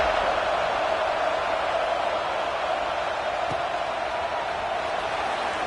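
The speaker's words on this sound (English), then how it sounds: "this crowd is buzzing after that last score" Football stadium crowd buzzing after a score, a dense, steady roar of many distant voices blended into a continuous wash without distinct words or peaks.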